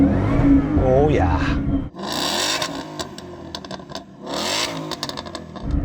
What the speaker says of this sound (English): So I'm going to rev up this Ford.